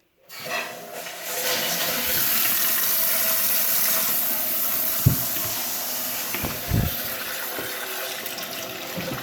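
Water rushes into a toilet tank through a newly fitted fill valve once the supply is turned on, a steady close hiss of filling with a few light knocks and clunks partway through.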